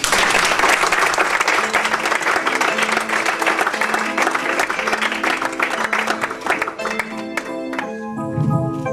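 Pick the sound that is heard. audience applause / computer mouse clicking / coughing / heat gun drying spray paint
audience applause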